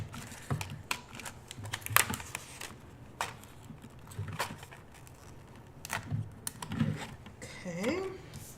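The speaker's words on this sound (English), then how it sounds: "now we are going to cut out our little antennae" Scissors snipping out small paper antennae, a string of sharp, irregular close clicks and cuts with quiet pauses, and a voice murmuring near the end.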